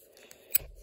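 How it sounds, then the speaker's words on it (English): The 84 mm scissors on a Victorinox Swiss Army knife give a single quick, crisp snip at close range after a moment of quiet handling. "Then we've got the 84 millimeter scissors."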